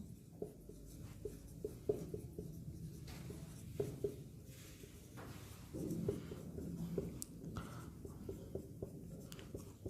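Pen or marker scratching steadily across a surface during a Hindi maths lesson on time, speed and distance, a continuous close writing texture with short strokes and pauses, no talk over it.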